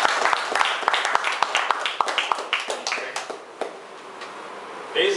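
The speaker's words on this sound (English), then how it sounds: "Let's just give him a loud applause." Audience applause at a Toastmasters club speech evaluation session, welcoming an evaluator: a dense run of sharp, close claps that gradually thins and fades, with a brief renewed burst at the end.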